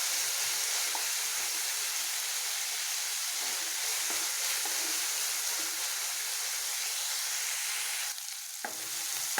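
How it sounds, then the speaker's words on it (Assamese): Onion and tomato gravy sizzles and bubbles steadily in a pan, a continuous close frying hiss with occasional soft stirring scrapes toward the end. "আমাৰ পিঁয়াজ আৰু বিলাহী গ্ৰেভিখিনি সিজিব ধৰিছে।"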